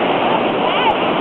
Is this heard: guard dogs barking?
no